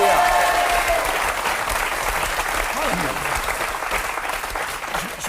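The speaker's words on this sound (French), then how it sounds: "On peut les applaudir." Studio audience applause on a French television talk show, a continuous roar of clapping at full loudness throughout, with indistinct voices faintly mixed underneath.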